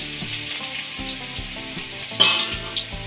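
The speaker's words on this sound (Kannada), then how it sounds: "ಈಗ ಎಣ್ಣೆ ಕಾದಿದೆ ಈರುಳ್ಳಿ ಹಾಕೋತಾ ಇದ್ದೀನಿ" Onions hiss and crackle in hot oil in a pan for a goat blood fry, a close, steady sizzle with a sharper burst partway through, under faint background music and no talk.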